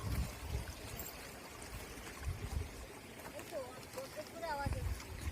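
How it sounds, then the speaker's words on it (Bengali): A waterfall in Purulia pours in a steady, soft broadband rush, heard from some distance beneath occasional low thumps and faint chirping sounds. "ঝর্ণার আওয়াজটা ভালো পাওয়া যাচ্ছে"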